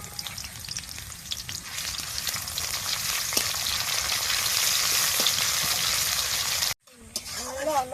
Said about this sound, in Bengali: কুচনো পেঁয়াজটা এবার দিয়ে দেব